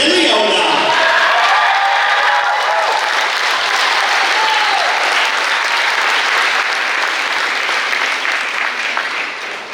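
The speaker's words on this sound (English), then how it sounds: "Let's give him a round of applause" Sustained applause from a graduation audience at a high school ceremony, honoring the salutatorian after his address; dense, steady clapping fills the hall for nearly ten seconds, tapering slightly at the end.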